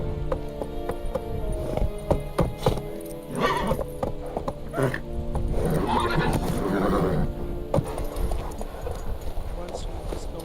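Horse in The Witcher 3 gallops with rhythmic clip-clop hoofbeats and lets out loud neighs and whinnies midway. A game soundtrack and voices sit in the background throughout.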